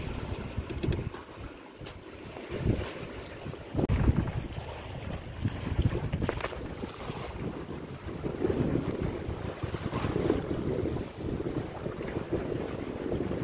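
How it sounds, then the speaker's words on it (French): Wind and water rush on a sailboat during a Pacific crossing, a steady broadband roar with gusting swells and wave surges, loud and continuous with no talk. "Surveille bien le vent, Abel"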